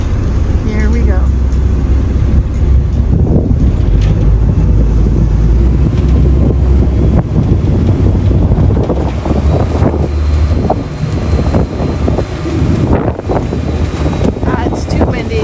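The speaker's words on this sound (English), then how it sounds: "It's too windy to film." Strong wind buffets the microphone nonstop on the deck of the cruise ship Norwegian Jewel anchored off Grand Cayman, a loud roaring rumble with sea noise and a voice partly buried beneath it.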